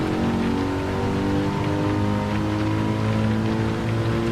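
Rain falls on the Spa-Francorchamps circuit in a racing video game, a steady hiss under a loud, constant car engine drone, with no speech.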